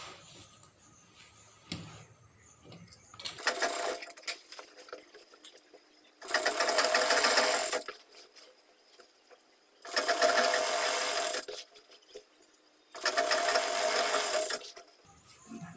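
Sewing machine stitching the panels of a four-panel petticoat, running in four steady bursts of about two seconds each with short quiet pauses between, close and fairly loud.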